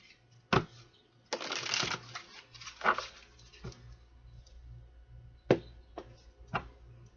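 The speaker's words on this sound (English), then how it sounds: "One more shuffle here." Tarot cards are shuffled by hand in bursts, with sharp riffling flutters and slaps, a longer riffle early on and several quick taps later, close and fairly quiet, with no talk.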